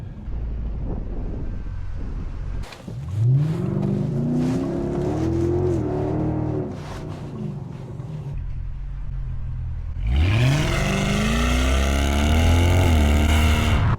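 A Mercedes-AMG CLS sports car engine revs hard twice, each burst climbing sharply in pitch before settling into a loud, close idle rumble with some wind buffeting.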